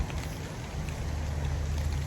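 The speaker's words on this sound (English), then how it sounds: "We have a misty, rainy morning." Steady rain falls on a misty morning outdoors at a deer-hunting stand, a continuous soft patter and hiss with a low rumble underneath, close and even throughout, with no voices.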